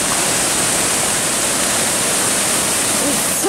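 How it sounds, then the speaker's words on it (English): Steady broadband roar of a waterfall along the Santiam Wagon Road trail, continuous and loud, filling the whole span without a break. "What a neat waterfall."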